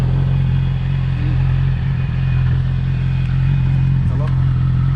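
A Yamaha R6 motorcycle engine runs at a steady, loud, close low drone during a riding lesson at a park, with light clatter and people talking over it.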